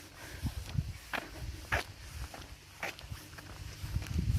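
Soft footsteps crunch along outdoors at a steady walking pace, fairly close, with faint rustling and light background noise.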